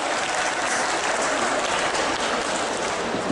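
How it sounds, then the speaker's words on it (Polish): A large audience at a LEGO brick festival applauds the festival's directors with steady, dense clapping that fills the room, loud and continuous throughout with no talk over it. "Wielkie brawa!"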